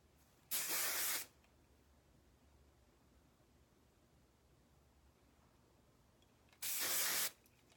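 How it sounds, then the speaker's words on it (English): Two short bursts of aerosol spray hiss loudly, several seconds apart, with quiet room noise in between. "it's gonna have to have a little bit of spray"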